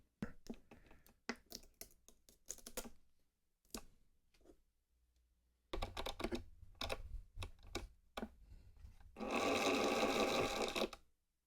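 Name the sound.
humbucker pickup coil winder turning wire onto bobbin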